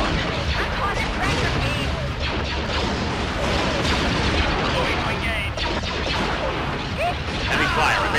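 Dense space battle weapons fire from Star Wars: Empire at War rumbles on without a break, with layered blasts, booms and laser bursts under voice commands.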